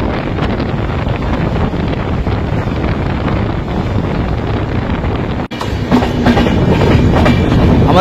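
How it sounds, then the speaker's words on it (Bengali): Onboard the Mithila Express as it rolls into Sitarampur Junction, a loud continuous rumble of wheels on rails with wind buffeting the microphone, briefly dipping before a brighter clatter resumes. "আমাদের ট্রেন প্রবেশ করছে সীতারামপুর"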